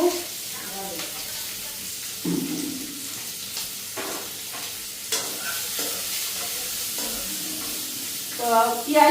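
Onion and cabbage frying lightly in oil, with stirring and scraping in the pan and a low, steady sizzle that rises and falls through the clip; a voice speaks briefly.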